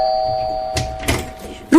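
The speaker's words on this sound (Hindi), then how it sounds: "तभी डोरबेल बजती है" A sustained electronic doorbell tone rings, followed by a couple of soft thumps and a short rising tone at the end.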